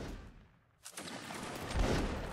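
Musket volley fire in a Napoleonic line battle video game: a ragged crackling fusillade of many shots erupts after a brief lull, then rolls on as a dense, loud rumble of overlapping gunfire.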